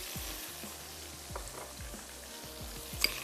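Garlic and ginger paste frying in a pan, a quiet steady sizzle with soft clicks and faint stirring scrapes throughout.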